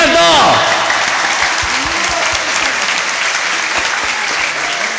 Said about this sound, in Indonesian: Tepuk tangan Cianto.